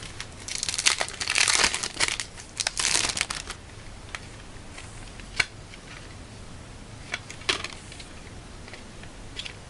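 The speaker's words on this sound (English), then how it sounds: "I'll take it out of the plastic." Plastic shrink wrap being pulled off a Spawn: The Eternal video game case: close crinkling and tearing bursts at first, then quieter scattered clicks and crackles as the wrapping comes away.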